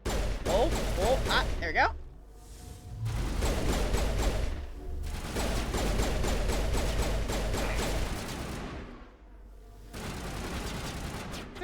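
Mass Effect 1 combat against pirates brings rapid bursts of gunfire and mechanical clatter, loud and fairly close, broken by short pauses, with a player talking briefly over it.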